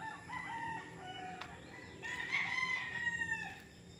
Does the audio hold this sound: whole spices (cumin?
no